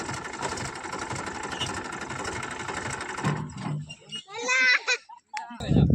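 A farm tractor engine idles with a steady mid-pitched chug for about three seconds before cutting off, followed by nearby talking and a voice.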